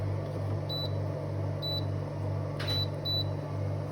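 Control panel of a Montpellier wine fridge emitting four short, clear electronic beeps at steady intervals over a constant low compressor hum, with no talking.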